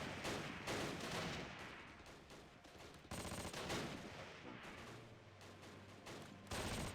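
Gunfire and high-explosive shell blasts in the Close Combat war game at the Arnhem rail bridge, a dense, loud stream of rapid shots and booming impacts that keeps going with no letup, with no voices.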